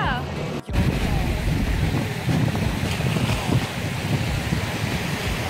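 Strong wind buffets the microphone at a seaside baywalk, a steady loud roar with the low rumble of surf beneath and a brief dropout near the start.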